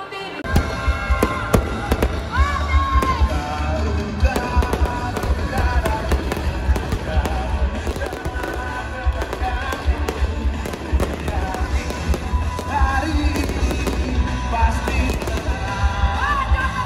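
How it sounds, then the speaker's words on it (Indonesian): A fireworks display at the opening of the 2023 Central Kalimantan provincial sports week at a stadium in Sampit, with dense, continuous loud bangs and crackles over a crowd's murmur, and a voice talking underneath. "turut dihibur dengan pesta kembang api"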